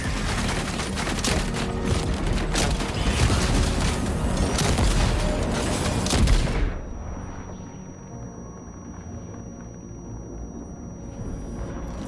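Heavy, sustained gunfire and booming blasts from the video game Death Stranding 2, dense and loud for several seconds before cutting off abruptly into a low rumbling quiet.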